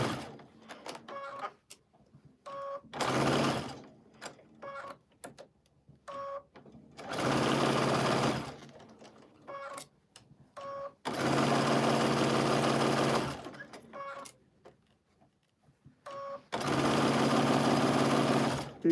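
A sewing machine stitching a quilt runs in four loud, steady bursts of a few seconds each, separated by quiet pauses filled with soft clicks and handling sounds.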